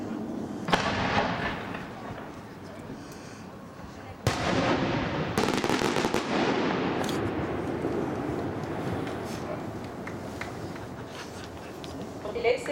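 125 mm firework shells burst with sharp booms followed by long crackling, hissing trails, echoing outdoors at a distance.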